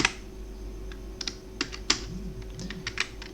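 Python code being typed on a computer keyboard: irregular bursts of close, crisp key clicks with a few louder taps, over a steady low room hum.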